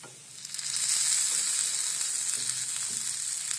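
Sliced white eggplant (brinjal) sizzles loudly in spiced oil in a pan for sabzi, a steady hissing fry that rises in the first second and holds evenly, with faint stirring noises underneath.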